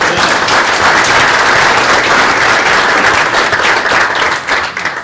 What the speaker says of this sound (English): How about a warm round of applause for